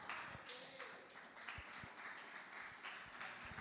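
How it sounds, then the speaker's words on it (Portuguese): A church congregation at a live worship service claps in praise, with scattered uneven claps and taps, fairly quiet and loosely rhythmic, with low thumps mixed in. "Glória a Jesus com as palmas."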